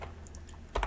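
A computer keyboard in a drone-programming session, a few soft key presses clicking close by, ending in a slightly louder double tap.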